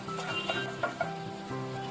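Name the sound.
chopped garlic frying in extra virgin olive oil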